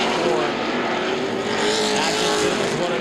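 Late model sportsman race cars roar past at Anderson Speedway during a CRA season-opener race, a loud, sustained engine drone with rising and falling pitch as cars pass.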